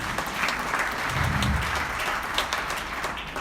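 A crowd at an event opening applauds in a thick, continuous burst of clapping, fairly loud and steady throughout with a few voices mixed in.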